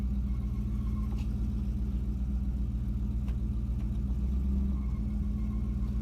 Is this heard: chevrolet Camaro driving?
yes